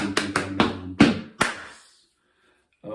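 Body percussion, with hands clapping and patting in a quick run of about six sharp, close hits, followed by a long pause and one more hit at the end.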